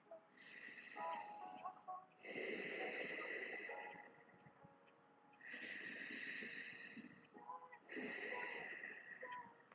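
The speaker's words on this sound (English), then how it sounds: "We call this ujjayi breathing." A person does ujjayi breathing, long audible exhales through a closed mouth with a soft, ocean-like rasp, coming in slow repeated waves with a faint voice in between.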